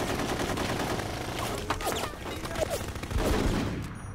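Sustained gunfire from the video game Full Spectrum Warrior, a steady dense crackle of rifle shots that rolls on without pause and swells toward the end, heard over a continuous battle din with faint voices.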